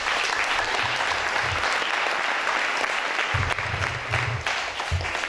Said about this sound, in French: Applaudissez pour Janice.